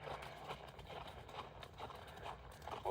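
A young horse moves on the ground during groundwork, with soft, fairly quiet hoof clip-clops in a loose rhythm over a few seconds and no talking.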